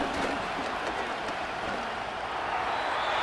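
A stadium crowd in the Madden 26 football video game applauds and murmurs as a broad, steady wash of sound at an even level throughout.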